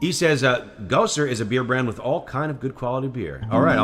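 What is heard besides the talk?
No everyday noise stands out behind the speech.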